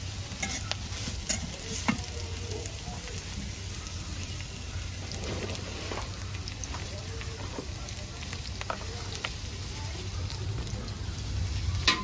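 Onions browning in a pan give a steady, moderate sizzle, with frequent scraping and clicking from stirring scattered throughout.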